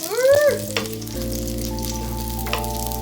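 Onions hit hot oil in a pan and sizzle loudly, with crackling and popping splatters over a steady frying hiss as they start to sauté for Filipino adobo.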